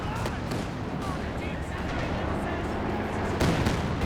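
Katyusha rocket artillery in Company of Heroes 2 hammers mortar teams in a 2v2 match, a dense roar of rumbling blasts and crackling launches throughout, swelling louder near the end.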